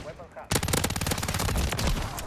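A WSP Swarm SMG fires in Modern Warfare III: a loud, very rapid automatic burst starts abruptly after a brief quiet moment and rattles continuously to the end.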